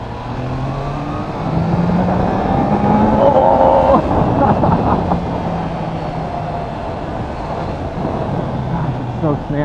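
A 2021 Triumph Trident 660 naked motorcycle's smooth engine while riding, a steady loud drone with a rising pitch sweep in the middle, wind noise throughout.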